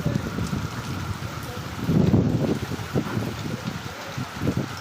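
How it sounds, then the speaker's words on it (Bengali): Heavy rain pours with gusting wind, a dense rushing wash with buffeting microphone noise, strongest around the middle, a voice talking faintly under it. "আজকে কিন্তু অনেক বৃষ্টি হইতাছে"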